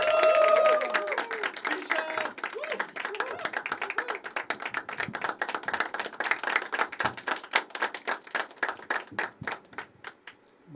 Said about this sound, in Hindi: ज़ोरदार तालियां होनी चाहिए, तालियां बजती रहनी चाहिए for very amazing Zeeshan ji